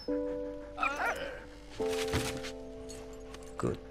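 A dog barks a few times in the World War I video game Valiant Hearts, short sharp yaps at moderate volume over a steady droning musical score.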